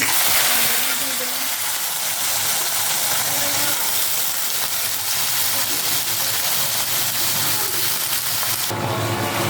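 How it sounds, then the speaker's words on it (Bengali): Continuous loud sizzling hiss of garlic frying in hot oil in a pan, steady throughout, with a brief rougher burst near the end. "একটু রসুনটা সুন্দর করে ভেজে নেবেন।"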